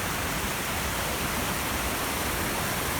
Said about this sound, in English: Come across this little iron bridge